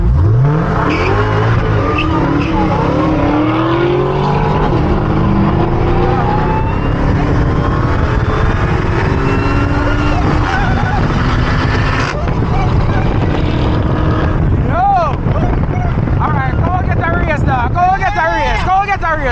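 An 800hp Dodge SRT Hellcat roars loudly and continuously through a nighttime burnout, its engine noise blending with tire noise, while people talk and shout over it nearby.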